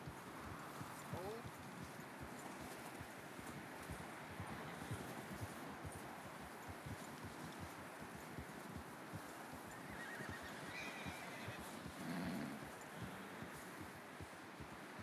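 Horse hooves clip-clop steadily with a whinny near the end in Red Dead Redemption 2, set against wind and outdoor rustle, with voices talking over parts of it.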